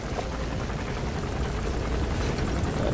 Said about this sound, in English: I saw a helicopter directly above me.